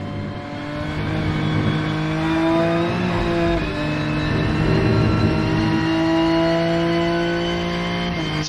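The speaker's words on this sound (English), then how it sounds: "It actually has some engine tone, not just some washed out moan." A race car engine in the Rennsport sim racing game revs hard and holds steady, with a strong buzzing tone whose pitch climbs and falls through the gears, loud and continuous throughout.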